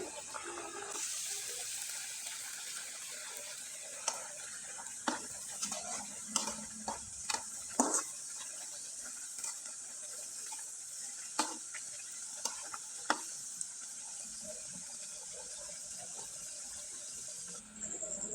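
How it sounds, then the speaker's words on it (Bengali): Kalojira pitha, Bengali cakes, fry in hot oil with a steady bright sizzle, broken by scattered clicks and scrapes of stirring, close and continuous. "আমি আপনাদের কয়েকটা পিঠা ভেজে দেখিয়ে দিচ্ছি তবে হালকা আছে মুচমুচে করে ভাজলে পিঠাটা খেতে ভালো লাগবে"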